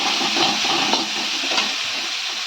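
Mixed vegetables sautéing in a pan for a ragi soup, giving a steady, close sizzling hiss with faint stirring scrapes throughout and no voices.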